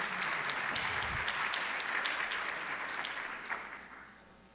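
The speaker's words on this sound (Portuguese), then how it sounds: "Então, uma salva de palmas, por favor, para a Lídia Gortijo, da Buzer," Audience applause at a closing panel of a customer experience and technology conference fills the room with steady, dense clapping that holds evenly for several seconds and then tapers off at the end.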